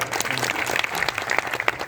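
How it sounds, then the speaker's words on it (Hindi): An audience at a live Bhojpuri Birha folk performance applauds a harmonium player, a lively burst of many hands clapping with rapid irregular claps, fairly loud and close, with no speech over it. "इनके नाम पर एक बार ताली बजाइए"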